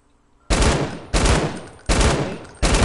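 Gunfire in Fortnite Battle Royale aimed at an enemy sky base, four loud sharp bursts spaced about two-thirds of a second apart, each ringing out and decaying before the next.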